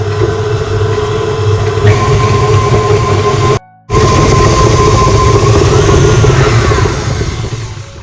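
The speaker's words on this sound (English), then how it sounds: "I'm just going to whisk it with my paddle whisk until it's light and fluffy" An electric mixer fitted with a paddle whisk beats plant-based butter spread in a bowl for a lemon dessert, giving a loud, steady motor whine that cuts out briefly and then resumes.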